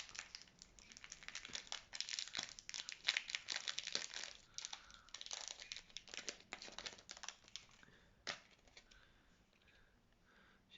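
Plastic and paper packaging of an advent calendar compartment crinkles and crumples as it is torn open to reveal a small stamp, with steady close rustling, a few sharper snaps, and no talking.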